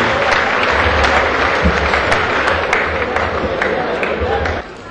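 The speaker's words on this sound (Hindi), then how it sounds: "एक बार जोरदार तालियां बजाइएगा संपत सरल जी के लिए।" Loud, dense audience applause for poet Sampat Saral at a Holi mehfil gathering, steady clapping with crowd noise that carries on throughout and drops off abruptly near the end.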